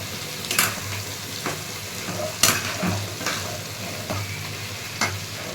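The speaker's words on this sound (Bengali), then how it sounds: "ভালো করে নাড়িয়ে চাড়িয়ে নেব।" Masoor dal mixture is stirred in a hot wok, with a spoon scraping and knocking in irregular strokes over a constant low sizzle of frying.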